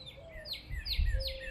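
Several short, bright chirps and a whistled note from a neighborhood bird, repeating in quick succession close by, with faint low rumble underneath.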